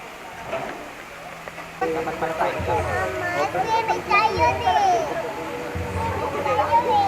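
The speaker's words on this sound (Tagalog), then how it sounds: "naririnig nyo ba yung tumitili?" A child squeals in high, wavering bursts at a highland resort, mixed with other children's chatter and voices in a lively outdoor setting.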